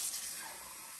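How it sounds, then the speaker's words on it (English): A kitchen faucet fed by an off-grid water system runs with air in the line, giving a soft spraying hiss that starts slightly stronger and then settles to a steady, faint rush. "So let's try it out of the kitchen sink."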